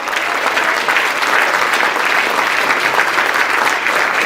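An audience at a lifeboat-style debate event gives the contestants a sustained round of applause, dense and loud. The clapping is close and steady, with no voices over it.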